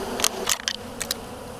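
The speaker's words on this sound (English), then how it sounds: "brush about 50 bees into the box, and they seem to be flowing right in" A honey bee swarm in Kansas buzzes as it is brushed into a box, with several short, loud bursts of close buzzing over a low hum.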